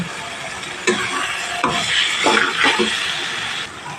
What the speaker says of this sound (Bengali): এবার এখানে আমি আলুগুলো দিয়ে আরও ভালো করে একটু কষিয়ে নেব